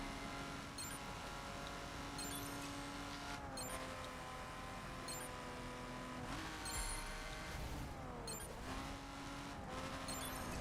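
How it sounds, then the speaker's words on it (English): In a racing video game, a car engine drones at a steady, high pitch with smooth rises and dips as gears shift. Short tire squeals cut in now and then, all held at a quiet, even level with no talk. "This car just sounds nice."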